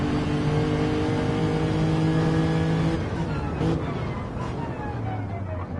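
A race car engine in a sim racing game during a World Endurance Championship-style qualifying lap, droning loudly at steady high revs, then easing and shifting pitch as the car slows and picks up speed again, with no talk.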